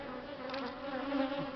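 An angry swarm of honey bees buzzes in a steady, dense drone that holds evenly throughout, close and alone with no voices.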